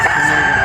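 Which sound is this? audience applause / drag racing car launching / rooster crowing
rooster crowing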